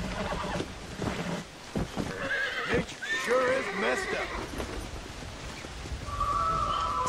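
A horse in the Red Dead Redemption Undead Nightmare video game lets out a loud whinny, then neighs again between clip-clopping hooves, while players talk over the game sounds.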